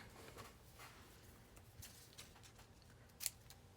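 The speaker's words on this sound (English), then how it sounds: "Gonna snip these strips here." A few faint, crisp snips of scissors cutting paper strips for cardmaking, with one sharper cut near the end, over a quiet room background.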